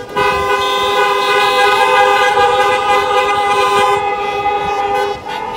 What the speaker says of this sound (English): Honk it up for Brenton.